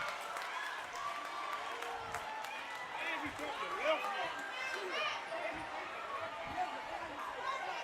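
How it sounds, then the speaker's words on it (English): Crowd cheering and clapping at a high school basketball game (Shaw at Chattahoochee County) after Champ Simpson's left-handed dunk, a steady broadband roar filling the gym with scattered shouts and whistles. "That fires up the crowd."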